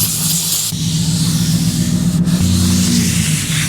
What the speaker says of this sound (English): I usually just spray some brake cleaner on a little paper towel here.